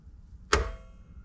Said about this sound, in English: that was the transfer switch picking which one of these is supplying power